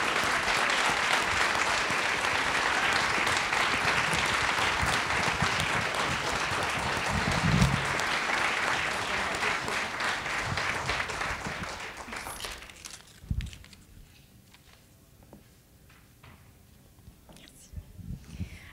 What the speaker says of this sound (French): Alors, je pense qu'il mérite une belle main d'applaudissements.